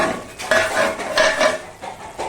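Papaya chicken curry is stirred in a pot over a low-medium flame, with repeated clinks and scrapes of a metal spoon against the pot and a faint sizzle of oil, close and fairly loud, without talk.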